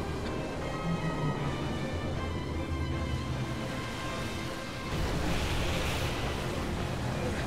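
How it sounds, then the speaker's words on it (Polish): Water waves in Shadow of the Colossus wash steadily with a soft surf-like rush and windy hiss, swelling slightly toward the end, with no talking over them. "Ładna woda, naprawdę. Woda się zachowuje świetnie."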